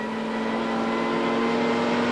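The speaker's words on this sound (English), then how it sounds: "Larry feeding it gears as they head up toward the back straight once again, building up a lot of speed." A Castrol-liveried touring car racing at Sandown in the 1996 Australian Touring Car Championship, its engine a loud sustained tonal drone held steady as it builds speed along the straight.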